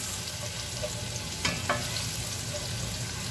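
Garlic frying in a pan until golden brown, a dense continuous sizzle close by with a couple of brief scrapes of stirring.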